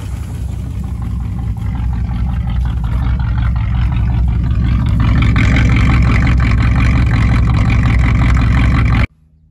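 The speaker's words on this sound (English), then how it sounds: "Still hear that nice valve tick." A third-generation Pontiac Firebird engine idling steadily with a loose valve on the left bank causing valve tick, a loud continuous rumble with a faint ticking edge, cutting off abruptly near the end.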